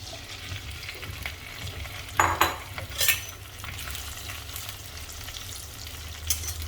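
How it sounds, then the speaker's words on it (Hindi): Okra tipped into hot oil for a Sindhi-style bhindi dish crackles into a loud, steady sizzle, with a few sharp bursts and spatters as the pieces hit and settle, then a continuous frying hiss. "तेल गरम हो चुका है, इसमें भिंडियाँ डाल देंगे"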